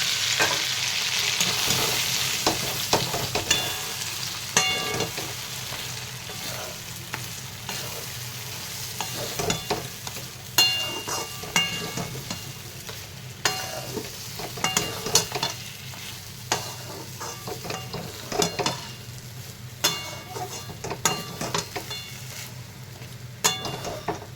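Jackfruit seeds sizzling in hot mustard oil with nigella seeds and ajwain, stirred in the pan: a steady, close frying hiss broken by frequent scraping and clattering stir strokes throughout.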